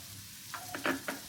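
Cashew nuts tipped into a hot pan of egg rice masala crackle and sizzle in a few short bursts over a steady low frying hiss, close and moderately loud, with no voices.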